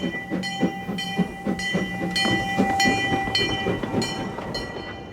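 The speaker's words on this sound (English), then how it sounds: "trains like the 186 miles an hour Eurostar link Britain to the continental mainland" A Eurostar high-speed passenger train, running at up to 186 mph, rolls past with rhythmic clattering over the rails, a steady mechanical hum and a faint high whine underneath.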